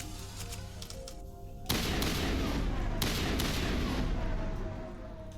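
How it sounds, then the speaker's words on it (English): Assault rifle gunfire in Mass Effect opens abruptly as a loud, sustained burst of rapid shots after a quieter lead-in, with a second sharp onset partway through and a slight fade toward the end. "and you get your assault rifle out"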